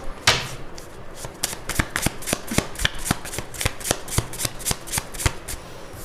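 Tarot cards being shuffled, with a few slipping loose and dropping, make a rapid run of crisp riffling snaps and flutters, steady and close throughout with no talking.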